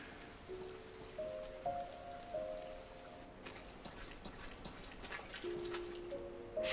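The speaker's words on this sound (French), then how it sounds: "la sonorité que ça fait quand la pluie touche l'objet ou touche la personne" Light rain patters and drips softly on surfaces, accompanied by gentle sustained melodic tones that rise and fall in short phrases, all quiet and close with no talking.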